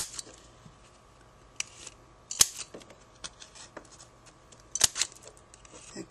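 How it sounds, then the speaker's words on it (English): A corner rounder punch clipping the corners of a handmade paper card, giving several sharp isolated snaps and clicks spaced a second or two apart over faint background hiss, close and crisp. "I'm going to take my corner rounder punch and punch the edges of the card"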